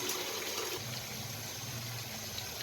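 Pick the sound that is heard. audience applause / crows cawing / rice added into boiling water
rice added into boiling water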